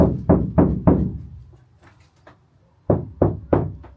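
Three quick hollow knocks on soft padded sound deadening panels inside a camper van, a pause with faint rustling, then three more dull knocks, close and muffled.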